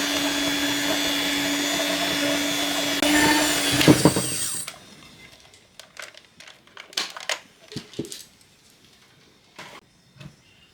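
An electric mixer whirs steadily through almond cookie dough as egg white is worked in, then cuts off partway through. Scattered clicks and scraping follow at moderate volume, with no one talking.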